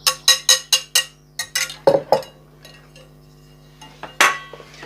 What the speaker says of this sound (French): On incorpore nos œufs dans la préparation.